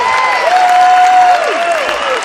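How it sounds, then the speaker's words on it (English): A boxing crowd at an amateur charity Mission Bout applauds both fighters after the bell ends the third and final round: dense, sustained clapping with thin whistle-like tones gliding over it throughout. "And the crowd gives them both a well-received round of applause."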